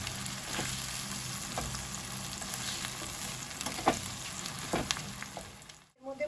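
Spices and garlic paste stirred and fried in a pan for Bengali-style ghugni, a steady sizzle with scraping stir strokes throughout, briefly cutting out near the end.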